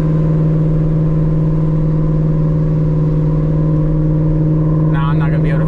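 A 2021 Mustang GT with a 10-speed, running ethanol on a Lund Racing tune, drones with a loud, steady engine note heard from inside, holding a constant hum with a brief higher-pitched whine near the end.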